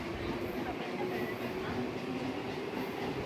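Steady rumble of a Mumbai local train in motion, heard from inside the coach, with continuous broadband rail noise and a faint tonal hum throughout, fairly loud and unbroken.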